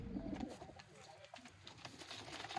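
Sialkoti pigeons coo in low repeated bursts at close range, with a steady murmur and some bird chatter continuing underneath.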